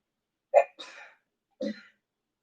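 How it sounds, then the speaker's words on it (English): A single close indoor sneeze from a person preparing food, a sharp burst with its short trailing release, followed by a smaller sniff or breath, in an otherwise silent room. "Oh, I got to sneeze."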